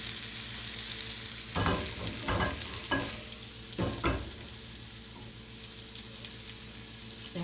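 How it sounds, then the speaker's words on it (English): Onion and bell peppers sizzle in butter in a pan, with a steady quiet frying hiss and a few louder stirring scrapes clustered in the middle. "I want to saute this until it gets a little bit soft and translucent."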